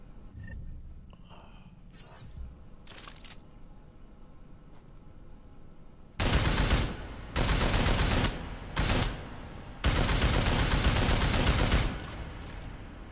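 A combat rifle in the video game Deus Ex: Mankind Divided fires loud sustained automatic bursts, four of them separated by short pauses, after a few faint clicks and quiet handling sounds.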